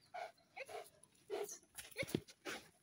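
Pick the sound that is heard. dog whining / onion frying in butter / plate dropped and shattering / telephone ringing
dog whining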